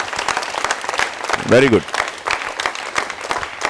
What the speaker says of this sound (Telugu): చప్పట్లు కొట్టుకుందాం మన కోసం మనం ఒకసారి